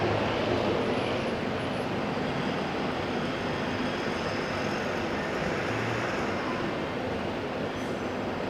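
Qantas flight QF143 from Sydney arriving at Auckland International Airport, a steady broadband jet roar that stays loud and even throughout, with no voices.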